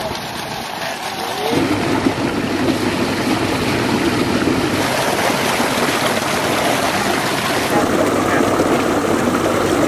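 Water pours and splashes constantly during an outdoor bath under running water in the fields. The loud, steady gushing thickens after the first two seconds and keeps going without a break.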